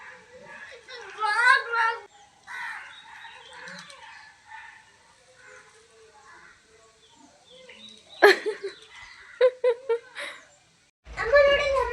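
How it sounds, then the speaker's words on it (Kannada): Crows caw and squabble while splashing in water on the rooftop terrace of a new house on a Holi morning, their harsh calls coming in short bursts amid scattered voices and background activity. "ನಮ್ಮ ಹೊಸ ಮನೆ ಟೆರೆಸ್ ಮೇಲೆ ಕಾಗೆಗಳು ನೀರಿನಲ್ಲಿ ಹೇಗೆ ಆಟ ಆಡ್ತಿದ್ದಾವೆ ನೋಡಿ"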